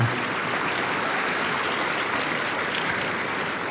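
A studio audience at a televised talk show breaks into dense, sustained applause that stays loud and even throughout, with no voice on top.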